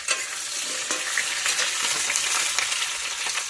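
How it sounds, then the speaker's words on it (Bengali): Potato pieces frying in hot oil for a Bengali fish curry, a dense continuous sizzle with occasional stirring scrapes, close and fairly loud, no talking. "এইভাবে আলুগুলো লাল লাল করে ভেজে নিলে ঝোল করো যে কোনো তরকারিতে দারুণ টেস্ট হয়"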